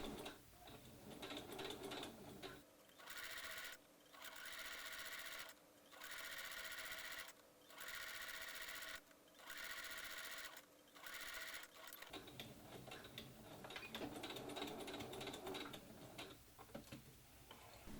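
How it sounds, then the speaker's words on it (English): A sewing machine stitches trim onto a Star Trek TNG costume yoke along the seam line, running in about six short regular bursts with brief pauses between, fairly quiet and alone. "Sew the trim to the lower front yoke along the seam line, 3/8 of an inch from the upper edges."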